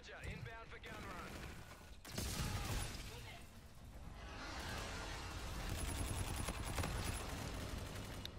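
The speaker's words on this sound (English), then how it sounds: "Roger, inbound for gun run." An aircraft gun run strafes the ground in a video game: a dense, sustained roar of rapid gunfire and impacts lasting several seconds, fairly loud, with voices talking over parts of it.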